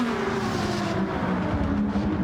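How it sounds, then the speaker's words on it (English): A screaming Mitsubishi race car engine in a racing video game, a steady loud whine with shifting pitch continuing throughout, close and without talk. "But here comes that little screaming Mitsubishi"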